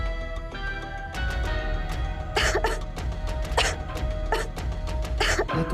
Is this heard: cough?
yes